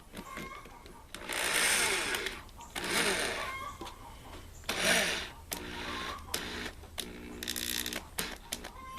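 A power drill set to low speed runs on a solar panel frame in several separate whirring bursts, some long and some short, with quiet pauses between them.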